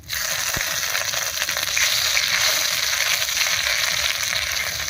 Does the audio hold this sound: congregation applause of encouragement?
no